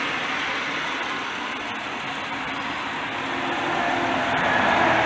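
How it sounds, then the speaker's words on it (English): A 2003 Chevy Impala LS Sport idles quietly, a steady low, even engine hum that swells slightly near the end, with no voices over it. "Probably one of the quietest engines I've ever heard."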